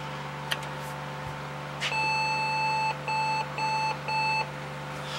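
An electronic machine beeps as it powers up: four loud, steady tonal beeps in a row, each about half a second long with short gaps, over a low mains hum and no talking.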